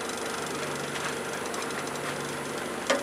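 A wood lathe spins a black locust burl at 1400 RPM, giving a steady droning hum with faint rhythmic rumble, and a brief sharp knock near the end.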